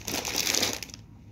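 Plastic bags of small pasta, ten bags bought from a ration shop, crinkle and crunch as they are handled close up, a dense rustling burst that cuts off abruptly near the end.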